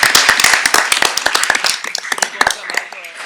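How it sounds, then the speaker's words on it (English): Scattered clapping from an audience at a school district board of trustees meeting, a brisk patter of separate hand claps that thins out toward the end, with voices mixed in. "Let's give them both a round of applause."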